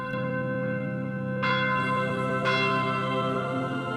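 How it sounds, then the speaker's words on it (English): A church bell clangs in the Fire Emblem Echoes: Shadows of Valentia video game, two loud, ringing strikes about a second apart, each leaving a long, shimmering decay over a sustained background tone. "why are they clanging that infernal bell?"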